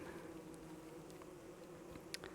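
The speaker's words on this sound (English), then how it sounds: "Gosh, I love being chased by killer bees through the night." Killer bees swarm and buzz in a nighttime video game chase, a faint, steady droning hum that runs throughout with a few brief higher chirps near the end.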